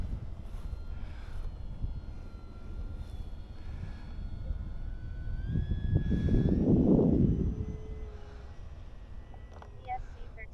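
RC T-28 Trojan military model airplane with an electric motor, rising to a louder pass mid-clip as it runs down a club runway, then fading, with wind noise throughout.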